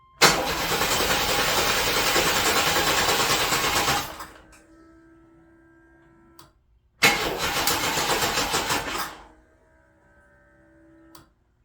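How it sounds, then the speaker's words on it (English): A 1993 Chevrolet S10 Blazer with a freshly installed engine tries to start twice, each a several-second burst of loud cranking and churning that cuts off abruptly, leaving faint buzzing and silence between. "Let's see if this thing's going to start and run and not knock."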